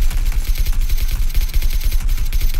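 Rapid gunfire in the video game PUBG, a loud, dense stream of repeated shots with heavy booming low end, continuing without pause across the whole stretch.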